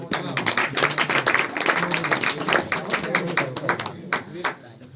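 An audience at a school New Year celebration claps to welcome a student onto the stage, a thick, lively patter of many hands that holds strong before thinning out near the end, with voices faintly mixed in.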